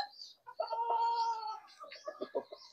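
Backyard chickens clucking and crowing close up in a quiet garden, a drawn-out call followed by a few short, choppy clucks.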